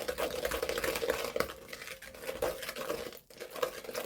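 Butter and sugar are mixed steadily in a bowl for hokey pokey biscuit dough, a continuous close scraping and churning with a brief pause near the end before it resumes.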